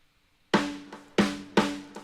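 A handful of short, dry snare drum hits in a loose rhythm, each cutting off quickly with little ring or room echo.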